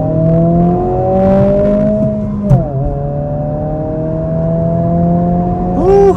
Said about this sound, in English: In the sport, we get a really nice snarl with this artificial but pretty nice sounding induction note.